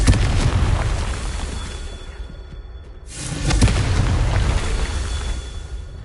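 A Confringo spell explosion in the video game Hogwarts Legacy, a loud, booming blast that rumbles and decays, dips briefly into quiet, then is followed by another heavy, sustained rumble.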